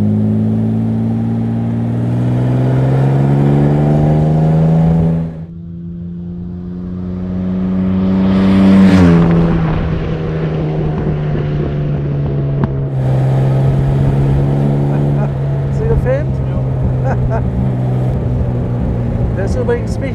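A 1977 Jaguar SS 100 Suffolk, a pre-war-style sports replica, drives with a loud, steady engine drone that rises and falls as it accelerates and shifts, with a brief dip midway and wind buffeting throughout.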